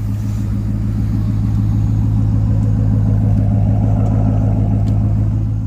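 A car engine idles steadily up close, a smooth low hum with an even rhythmic pulse and no talking.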